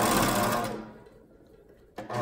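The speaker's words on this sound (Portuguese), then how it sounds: "Agora eu vou passar o overlock na beirada da manga aqui, na barra." An overlock sewing machine hems the edge of a child's dress sleeve, running in a loud steady whir for under a second, then dropping to quiet handling noise before a brief restart at the end.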